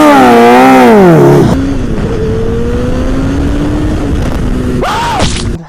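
A Honda CBR motorcycle rides on a city street, its engine loud and close: rising and falling revs, then a steady drone after a gear change, and a final sharp rev.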